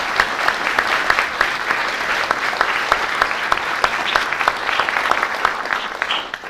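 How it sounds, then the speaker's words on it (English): A meeting hall crowd at a public meeting against a conservation amendment gives the speakers a round of applause: dense, loud, continuous clapping that holds steady for several seconds and tapers off at the very end. "One round of applause for all our speakers."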